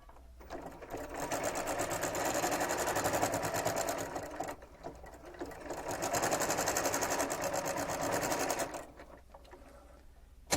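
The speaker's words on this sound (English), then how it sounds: "So just carefully sew down the sides." A sewing machine runs close and steady as it sews down the sides of a cloth face mask, in two long stitching runs with a short pause between them and no talk.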